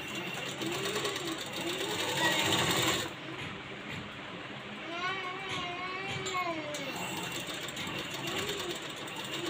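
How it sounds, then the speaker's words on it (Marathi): Domestic sewing machine running steadily to stitch the side seams of a ready-made frock, a continuous mechanical whir throughout, briefly louder early on, with faint background voices and household noise. "अगोदर ह्या साईडला दोन्हीला पण आपण शिलाई मारून घ्यायची"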